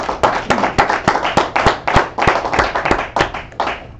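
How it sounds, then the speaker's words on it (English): A small audience at a university capstone project presentation claps in sharp, evenly spaced beats, loud and close, a sparse rhythmic clapping rather than a full ovation. "let's clap for you first"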